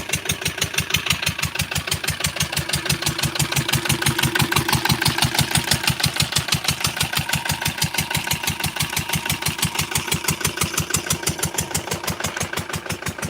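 A farm engine powering a crop sprayer chugs in a fast, even rhythm of pulses, running loud and close throughout with no talking.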